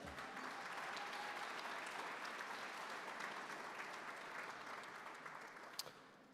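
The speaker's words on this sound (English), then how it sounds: "Let's give him a round of applause." A banquet audience at the Georgia PGA awards applauds, a steady round of crowd clapping, full and even, gradually thinning out toward the end.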